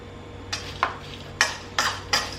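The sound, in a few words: stirring and mixing corn salad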